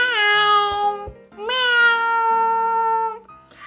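A cat meowing in a children's song about pets, two drawn-out, clear, close meows, the second longer than the first.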